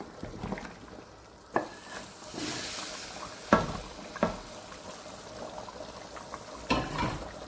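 Lamb trotters and spices fry in a pot with a soft steady sizzle, broken by a few sharp clanks of a spoon stirring against the metal.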